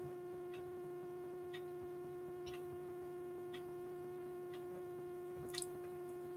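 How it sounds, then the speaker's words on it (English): An electric aromatherapy oil diffuser gives off a steady, faint hum with a constant tone, plus a few soft ticks and hisses, in a quiet room with no talking. "A diffuser, that's what it is, yes. It's an electric one."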